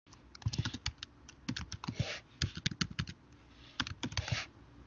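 Clicky computer keyboard typing in quick irregular bursts of keystrokes with short pauses between, close and fairly quiet, no voices.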